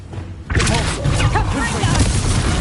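Spell explosions in the wizarding game Hogwarts Legacy burst out as a sudden loud boom, then keep rumbling as dense blasts and crackling impacts, with energetic voices talking over the din.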